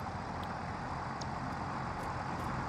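A truck drives in the factory-building game Satisfactory, giving a steady, continuous engine and road rumble throughout with no talking.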